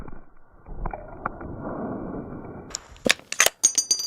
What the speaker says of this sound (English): This is silver tip 50 cal shot number 2.